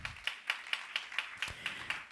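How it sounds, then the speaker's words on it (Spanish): A church congregation claps in praise, a steady rhythmic beat of about nine sharp claps in two seconds, moderately close with no talking over it. "dale palmas al Señor"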